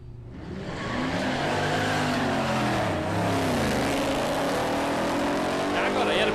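A Ford Mustang launches down the drag strip at Palmyra Raceway, its engine roaring loud and close in a sustained, rising howl that sags briefly midway before pulling hard again.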